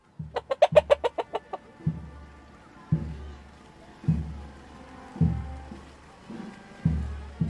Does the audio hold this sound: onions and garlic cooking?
no